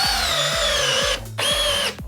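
A Dewalt 12V hammer drill drives a 5-inch power lag, loud and close, with a steady motor whine broken by a brief pause and a second trigger pull, with rhythmic clutch knocks throughout.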